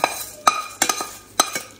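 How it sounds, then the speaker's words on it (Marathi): A spoon stirs peanuts and dal in a pan with a tempering of cumin, mustard seeds, curry leaves, coriander and green chilli. Four or five sharp scraping strokes sound up close, with no voices. "आता मिक्स करून घेणार आहे."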